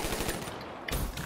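Rapid automatic gunfire from a first-person shooter video game crackles in a dense, continuous burst, loud and close, with a brief dip before the firing resumes.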